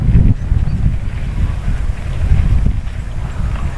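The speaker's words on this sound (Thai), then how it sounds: "บรรยากาศดีมากเลยลมพัดเย็นๆ" Cool wind roars steadily across the microphone beside a roadside cattle pasture, a loud, continuous low-heavy rumble with gusty swells and no talking.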